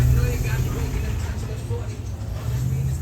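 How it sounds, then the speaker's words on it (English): Road traffic passes in front of a home garden, a steady low rumble of vehicles swelling at the start and again near the end, fairly close and continuous with no voices. "that's just traffic passing by"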